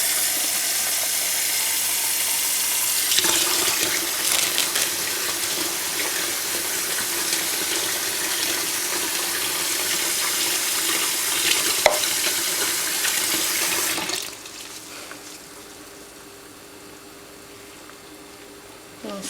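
Tap water runs steadily over tie-dyed yarn colored with Tulip tie-dye kit dyes, a loud, close rushing splash that lasts about eleven seconds and then stops, leaving quiet room tone.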